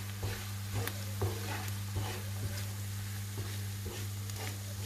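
Masala spices cooking in oil for a Durban lamb curry, a soft steady sizzle broken by regular scraping taps of a spoon stirring the pan, fairly quiet and close, with no speech.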